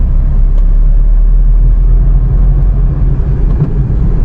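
A car driving along a road in third gear, with a loud, steady low engine rumble and road noise heard from inside the cabin and no talking.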